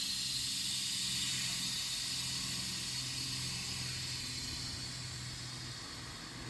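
Steady broadband hiss of an air compressor pushing air into rear air shocks on a Stink Bug, holding constant throughout with a faint low hum beneath and no talking.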